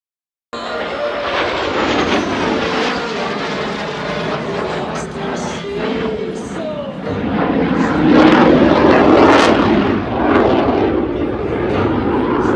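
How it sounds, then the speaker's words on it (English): A CF-18 jet roars overhead during rolling maneuvers at the 2019 Abbotsford airshow in British Columbia, a loud, sustained engine rush that surges and fades, with an announcer talking over it. "Watch now as Humza displays the CF-18's exceptional rolling capabilities."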